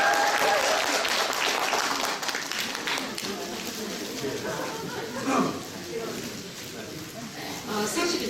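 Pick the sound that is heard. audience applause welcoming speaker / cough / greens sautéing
audience applause welcoming speaker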